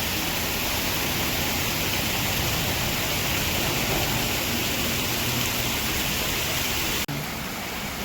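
Spring water pours steadily from a pipe at a roadside spring near the Mumbra Devi temple, a dense, even rushing splash close to the microphone that holds constant before cutting off abruptly near the end.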